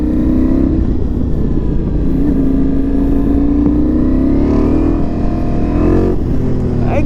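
Ducati Multistrada V4S motorcycle engine revving and accelerating on a quick ride, a loud continuous drone rising in pitch with wind noise, heard close with no talk.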